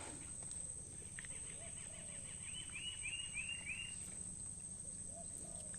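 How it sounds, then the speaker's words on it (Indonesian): Faint bird calls in a mangrove at dusk, including a quick run of repeated chirps, over a steady buzzing insect drone in a quiet outdoor setting. "Suara burung semakin senja, semakin banyak"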